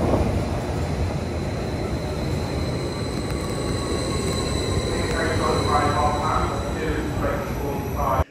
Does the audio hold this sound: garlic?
no